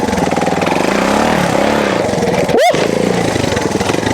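A Honda TLR trials motorcycle engine buzzes loudly up close, pitch rising and falling as it revs, with one sharp high-pitched rev spike midway.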